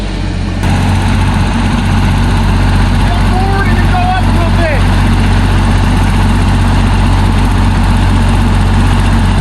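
A neighbor's tractor engine idles steadily while it is used to unload metal, a constant low rumble running throughout, with a few brief bird chirps midway.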